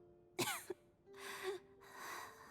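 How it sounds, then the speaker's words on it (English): A female character named Tonya coughs in an Archon Quest game scene: a sharp, close cough burst followed by a brief catch, then two longer raspy, breathy coughs or wheezes, fairly quiet and with no talk over them. "How long have you had that cough"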